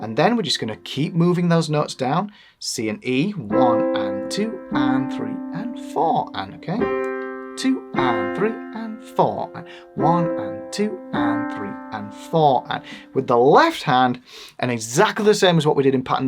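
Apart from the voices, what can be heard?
No everyday noise stands out behind the speech.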